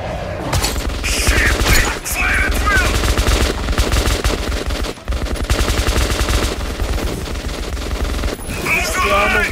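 Sustained gunfire in the video game Metro 2033, loud rapid automatic bursts hammering almost continuously with brief pauses, shouted voices breaking through in places.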